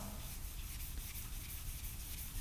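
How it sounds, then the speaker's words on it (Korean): Steady, continuous rubbing of 3000-grit sandpaper on a scratched car body panel, a soft broadband hiss held at an even level for a few seconds with no talking. "이 상태에서 제가 한번 샌딩을 한번 해볼게요. 3000방이라서 굉장히 약한 샌딩 페이퍼거든요."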